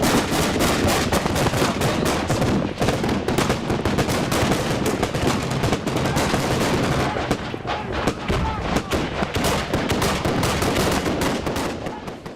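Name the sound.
gunfire during Taliban attack in Sperwan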